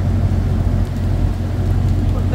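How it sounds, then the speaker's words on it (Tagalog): Heavy, typhoon-like rain pouring down at sea on a fishing boat during a tuna catch off Japan, a dense steady roar with low rumbling underneath, loud and continuous throughout. "Pero yung ulan parang bagyo na."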